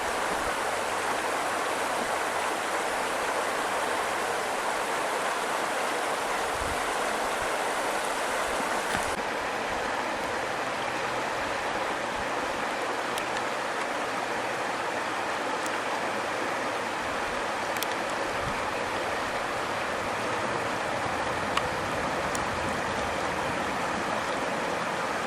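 The Bitterroot River flows steadily near Sleeping Child Creek in a constant broadband rush, close and continuous, with no voices.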